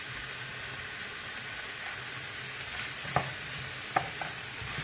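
Meatball and vegetable filling, seasoned with onion, cumin, garlic powder and soy sauce, frying in a pan with a steady soft sizzle and occasional light clicks of a stirring spoon against the pan.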